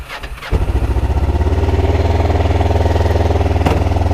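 A Kawasaki Ninja 500 motorcycle engine cranks briefly, then catches and settles into a loud, close, steady throbbing idle with one short blip near the end.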